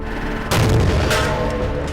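A truck tyre explodes during inflation in one sudden, loud blast at about half a second, followed by a rumbling, ringing tail that fades slowly.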